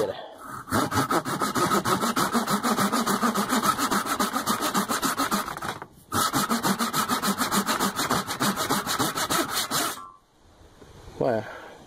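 Japanese pull saw cutting through pine, including a knot: rapid, steady rasping strokes in a long continuous rhythm, pausing briefly near the middle and stopping near the end, close and loud.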